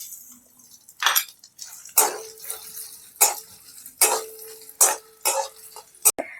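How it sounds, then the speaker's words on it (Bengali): Grated coconut is stirred in a pan, with a spatula scraping the metal in distinct strokes roughly once a second. There are soft clinks between strokes and no talking. "নারকেলটাও আমার ভালোভাবে ভাজা হয়ে গেছে"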